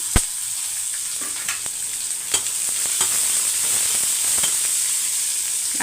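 Crushed garlic and small shallots fry in a pan with a loud, close, hissing sizzle, punctuated by sharp spatula scrapes and knocks as they are stirred, growing steadier toward the end.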